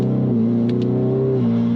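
A combustion engine car revs steadily while shifting gears. Its close, humming drone steps in pitch between shifts, and no voices are heard.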